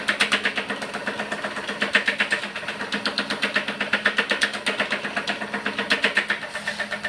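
An Eckold panel forming machine shrinks sheet metal under light pressure, producing a rapid, regular mechanical pounding, several strokes per second, close and fairly loud with no talk.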